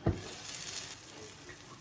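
An egg fries in a covered pan over lowered heat, giving a soft, steady sizzle after a brief louder crackle at the start, with no one talking.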